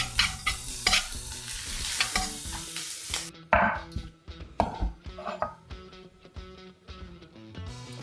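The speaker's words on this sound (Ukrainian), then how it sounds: "Смажуємо, додаємо наше м'ясо і додаємо соус бешамель." Chicken meat sizzles and fries in a pan with béchamel sauce, loud and close, with a spoon or spatula stirring and scraping in irregular bursts throughout.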